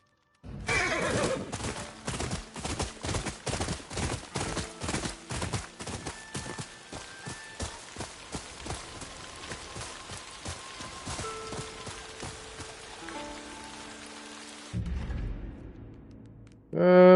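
A horse in the video game Ghost of Yotei whinnies loudly, then hooves pound in a fast, steady galloping rhythm that gradually slows, ending with a brief low rumble.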